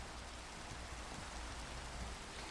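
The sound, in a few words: rain on the Mindcrack server, video game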